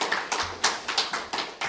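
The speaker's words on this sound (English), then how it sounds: "A little round of applause would be appreciated" Scattered, sparse clapping from a small audience at a poetry reading at the Poet's Corner, Scarritt Bennett Center: a handful of light, irregular claps that are brief and fairly close, with no talking.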